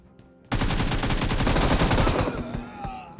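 Rapid automatic gunfire in the shooter game PUBG bursts in loudly after a half-second of quiet, a dense close stream of shots for about two seconds, then fading into scattered shots, clinks and game effects.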